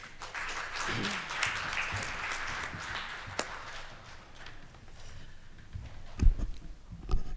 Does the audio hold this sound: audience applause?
yes